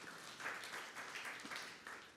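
Congregation in a church service claps together for a sustained, steady round of applause with a few louder surges; no one speaks.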